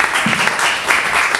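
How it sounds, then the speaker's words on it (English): An audience at a startup conference fireside chat gives a short burst of dense, steady clapping lasting just over a second. "one big clap for all the lovely ladies in the house"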